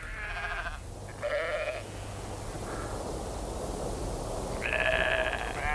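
Soay sheep on St Kilda bleat several times, a few separate calls with pauses between them, heard outdoors over a steady windy background rumble.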